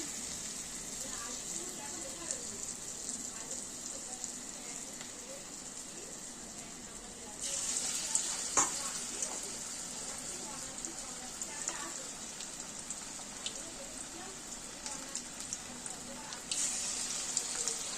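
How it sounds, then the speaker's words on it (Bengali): Potato and onion fritters (aloo peyaji) frying in hot oil, giving a steady close sizzle and crackle throughout that grows a little louder partway through. "এক এক করে সব ভেজে নেবো"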